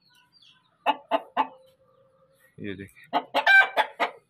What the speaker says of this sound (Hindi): और एक ये मुर्गा आया